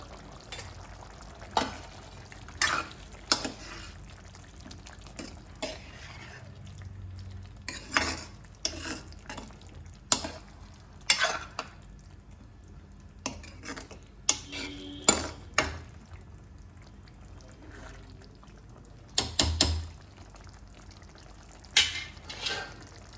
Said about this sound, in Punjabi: ਹੁਣ ਅਸੀਂ ਇਹਦੇ ਵਿੱਚ ਕੱਟੀ ਹੋਈ ਅਰਬੀ ਪਾ ਦਵਾਂਗੇ